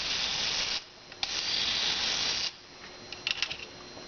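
Latch on a restored Park-O-Meter parking meter advancing its clock mechanism, a close whirring, ratcheting run with short pauses followed by a few faint clicks.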